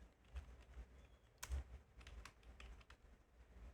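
Typing on a computer keyboard while writing in Microsoft Word: quiet, irregular key clicks and a few heavier taps, close but faint, with no talking.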